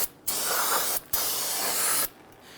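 Aerosol cleaner sprayed onto the rear e-brake system of a Dodge Charger, two loud close hissing bursts, the first about three-quarters of a second and the second about one second, separated by a short pause.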